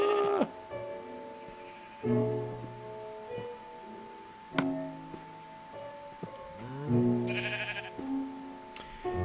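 Sheep in the video game Minecraft (PS4 Edition) bleat repeatedly over about nine seconds, the wavering calls clear and close over a steady game-world background tone.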